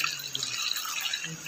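Hot water poured into a pan of cooking curry, giving a steady splashing, trickling pour throughout at moderate level, with no talking.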